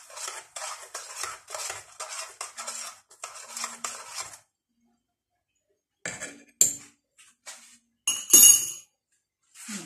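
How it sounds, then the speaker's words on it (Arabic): A metal spoon stirs sugar into Moroccan green mint tea, clinking rapidly and steadily against the glass or pot for several seconds, falling quiet, then returning in a few sharper, separate clinks and scrapes. "نحركو بمعلقة باش يدوب السكر"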